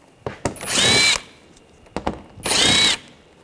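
Two short bursts of a power driver spinning an 8mm socket to remove interior panel screws on a 2009-2013 BMW 328i, each burst loud and whining, separated by brief clicks and pauses.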